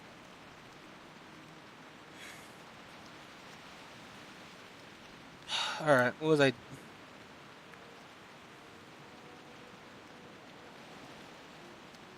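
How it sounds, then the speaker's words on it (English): Steady rain falls in World of Warcraft on the Ascension server, a soft even hiss running throughout, with a brief burst of nearby talk partway through. "Oh, it's raining!"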